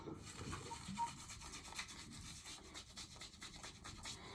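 A shaving brush rubs and scrapes across the surface of a hard shaving soap to work off excess lather, giving a steady close-up scrubbing and swishing texture with no talk.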